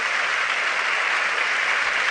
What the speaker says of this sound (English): I'm applauding too